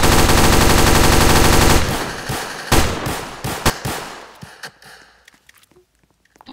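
Gunfire in the Roblox video game starts as a dense, loud rapid-fire burst, then breaks into scattered single shots and pops that thin out and fade toward silence.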